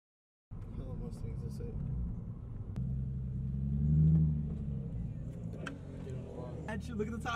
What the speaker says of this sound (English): When your car is really loud but you can't afford a turbo.